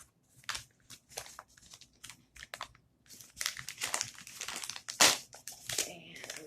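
A strongly taped yarn bag being ripped open by hand, giving bursts of crinkling, tearing plastic and tape, loudest near the end, with a voice talking over it at times.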